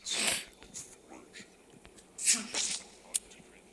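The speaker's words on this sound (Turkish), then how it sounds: "Allah yüzüme hapşırdı ya" A nose character in a Roblox game lets out a close, breathy sneeze with a sharp hiss, followed by a second sneezing burst and snorting sniffles, with soft speech in the background.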